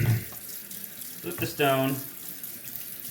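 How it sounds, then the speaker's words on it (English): A tap runs briefly while a steel blade is rinsed during honing on a soft Arkansas whetstone. The short splash of water sounds close and follows someone speaking. "rinse off the blade a bit"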